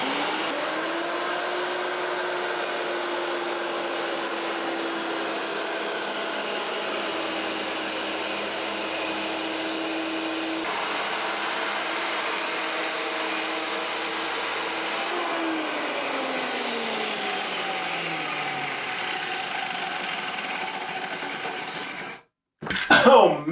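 A circular saw runs steadily through wood, a loud sustained whine whose pitch drops near the end as the blade winds down, followed by a brief clatter.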